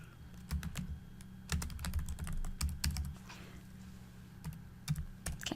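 Rapid keystrokes on a computer keyboard in a clinical office setting, clattering in irregular bursts of clicks with short pauses, close and moderately loud, with no speech.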